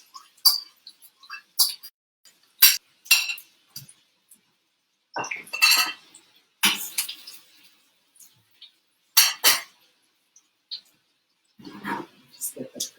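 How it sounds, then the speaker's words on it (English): A spoon stirs onions in a pan as they soften for a Greek frittata, making sparse, sharp metallic clinks and taps at irregular moments between quiet gaps. "Just getting the onions in here, soften them up."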